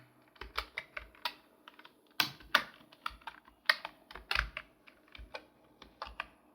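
Crisp, close keystrokes on a computer keyboard come in an uneven run as a command is typed, separate clicks with short pauses and a few heavier taps, and nobody speaks.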